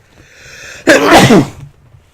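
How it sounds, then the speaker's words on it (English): A single loud, close sneeze bursts out after a moment of near silence, with a brief sharp onset and a fading tail, heard during a Pro Cycling Manager 2016 gaming session. "That was a sneeze"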